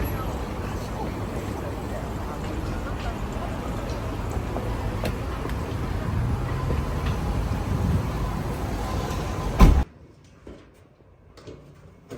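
A Japanese commuter train rolls along its rails with a steady, dense rumble and clatter that ends abruptly near the close, leaving quiet interior sounds with faint talk.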